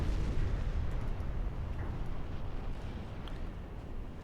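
Warship guns rumble in the naval game Ultimate Admiral Dreadnoughts, a dense continuous low boom of artillery fire and explosions rolling on without a break.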